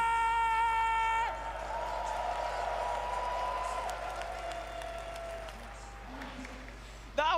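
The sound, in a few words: crowd applauding at Dota 2 grand finals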